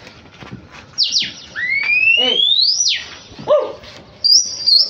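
Flock pigeons being released and chased into flight from a rooftop loft, with a string of loud, high sweeping whistles and sharp chirps rising and falling across the sky over a low background hiss.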